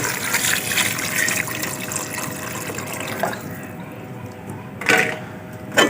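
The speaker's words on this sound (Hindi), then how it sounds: "अब हम इसमें पानी डालेंगे 1 लीटर।" One litre of water pours and splashes into a pot of goat meat curry with turmeric, a steady gushing stream up close with a few louder sloshes near the end.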